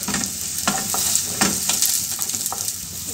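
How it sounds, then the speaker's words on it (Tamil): Green and dried chillies sauté in hot oil in a pan, giving a loud, continuous sizzle broken by sharp scrapes and clatters as they are stirred, with no voices. "இப்போ பச்சை மிளகாய் சேர்த்துக்கலாம். காஞ்ச மிளகாவையும் சேர்த்துக்கலாம். நல்லா வதங்கட்டும்."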